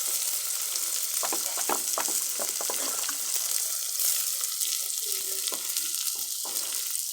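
Sliced onions fry in a pan for a bitter gourd curry, hissing and sizzling steadily up close, with occasional stirring clicks and no speech.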